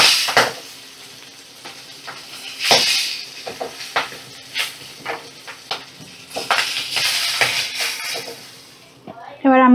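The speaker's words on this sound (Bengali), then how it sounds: "মাছগুলো ফাটবে, একটু সাবধানেই ভাজতে হবে।" Magur fish frying in hot oil in a pan, with steady sizzling and sharp spitting pops, plus stirring and scraping of a utensil against the pan. Near and moderately loud, with a brief voice at the very end.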